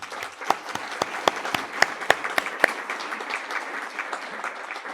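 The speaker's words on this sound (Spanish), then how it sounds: "a los quienes les brindamos un aplauso" Audience applause for young participants of a UNICEF project at a lecture on human behaviour and waste, a steady clatter of many hands at moderate level with a few sharper, louder claps standing out.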